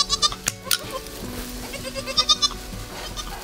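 A young goat kid on a goat farm gives several close, loud, wavering bleats in quick succession, with farm background noise between calls and no talk.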